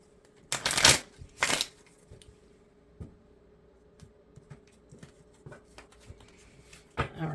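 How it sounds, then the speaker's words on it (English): Two quick, loud riffle shuffles of tarot cards up close, then quieter tapping and handling of the deck, with a brief shuffle at the end. "One more shuffle."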